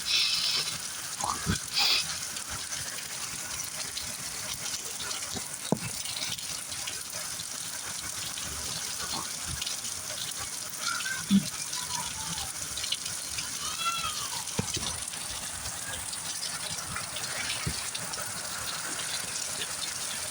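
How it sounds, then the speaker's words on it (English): Steady heavy rain from a summer thunderstorm hisses and splashes evenly throughout, with wind gusting now and then and the fall continuing unbroken. "And it's raining again."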